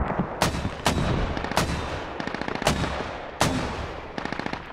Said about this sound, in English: Let us know how the mortars land.